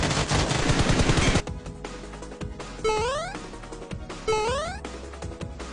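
Rapid automatic gunfire in the mobile shooter BGMI, a dense loud burst of shots followed by sparser single shots and two rising electronic sweep effects.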